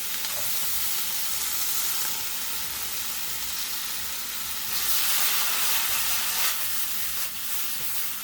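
Pork and vegetables sizzling hard in a hot wok for Hong Kong style chow mein, a loud continuous frying hiss that swells as the food is tossed, close with no voices.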